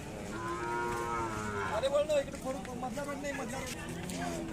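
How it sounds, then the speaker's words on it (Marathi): A cow moos several times in long, low drawn-out calls, fairly close, with people chattering in the background at a cattle sale. "पंच्याऐंशी हजाराला या गाईचा व्यवहार झाला मित्रांनो आयन मुजावर यांच्या दावणीला"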